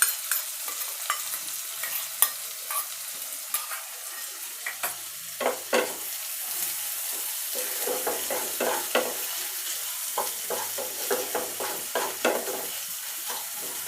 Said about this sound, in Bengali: আপনাদের ধীরে ধীরে ভেজে গোল্ডেন ব্রাউন কালার আনতে হবে।